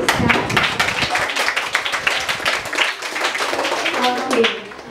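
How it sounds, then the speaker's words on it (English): At an elementary school debate event, an audience claps for the competing team, a loud burst of individual, fairly distinct hand claps lasting several seconds. "Shall we give them a round of applause?"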